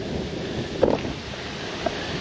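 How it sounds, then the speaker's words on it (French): Strong wind buffets the microphone of a rider cycling a long road stage, making a steady rushing roar with a couple of brief gusty thumps. "il y a beaucoup de vent"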